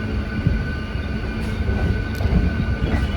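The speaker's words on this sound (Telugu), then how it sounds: "మన ట్రైన్ అయితే కృష్ణ కెనాల్ జంక్షన్ నుంచి అయితే బయలుదేరిపోయింది" Passenger train pulling away from Krishna Canal Junction, a continuous loud rolling rumble of wagons with a few brief high squeals, no voices.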